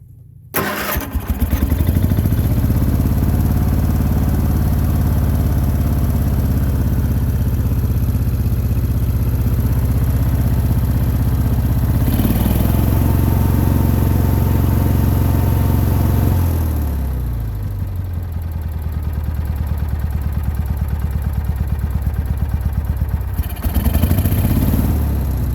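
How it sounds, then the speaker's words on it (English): A Ford YT16 tractor engine fitted with an electric fuel pump, air intake removed, starts and runs at a steady, fairly loud idle with mechanical clatter, dipping briefly in speed partway through before settling again. "right now it's not wanting to super low idle, I think because the air intake's off"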